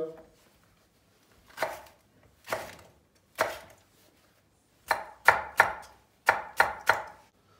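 One hot pepper and two mild green sivri peppers being chopped on a board: three slow, spaced knife strikes, then a quicker run of crisp chops, loud and close with no talking.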